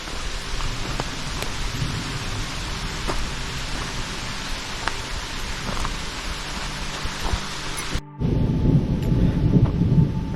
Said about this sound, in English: See that? Hear that thunder?